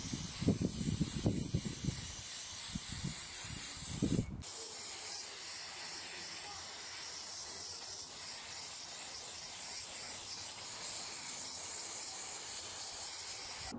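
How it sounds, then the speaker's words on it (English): Water and stain repellent sprayed onto a Yeezy shoe outdoors, a steady close hiss that runs almost the whole time after a few brief bursts and knocks at the start. "We're basically just outside to spray the shoe"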